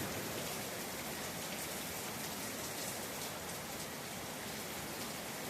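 Heavy rain pours down on the south side of Marion, Ohio: a dense, steady hiss of drops on surfaces, close and constant with no voices.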